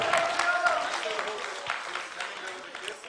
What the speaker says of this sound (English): Clap your hands and give thanks to God.